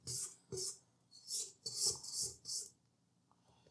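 A spatula scrapes buttery Danish cookie dough around a mixing bowl in about six rhythmic rasping strokes, close and fairly quiet, then stops.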